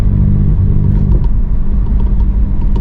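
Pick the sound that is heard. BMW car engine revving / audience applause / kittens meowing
BMW car engine revving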